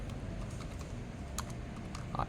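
Typing on a computer keyboard produces a run of soft keystrokes with a couple of sharper clicks near the end, faint over a low room hum.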